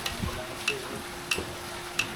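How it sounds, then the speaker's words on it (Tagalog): Food being stirred and mixed, with soft scraping and sharp spoon taps in an even rhythm roughly every two-thirds of a second over a low, steady background hum. "Ganito ang tamang paghalo."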